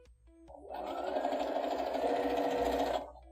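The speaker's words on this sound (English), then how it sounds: "we're just going to sew a 1/4 inch seam" A sewing machine runs a quarter inch seam on a Valentine's heart quilt block, starting with a few soft clicks and then stitching in one steady, close, continuous whir for about two and a half seconds before stopping.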